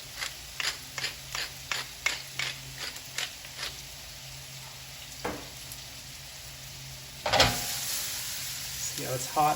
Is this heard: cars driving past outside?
no